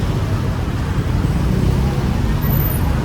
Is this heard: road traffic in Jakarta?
yes